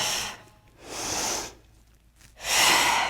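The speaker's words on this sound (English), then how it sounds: "And breathing in through the nose, exhale out through the mouth." Deep breaths during a workout: three long, airy breaths with pauses between them, each a close breathy rush of air, in through the nose and out through the mouth.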